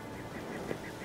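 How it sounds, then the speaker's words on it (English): Goose honks in The Witcher 3 video game, a few faint, nasal calls repeating at a steady pace against low background ambience. "Silly goose. Silly goose!"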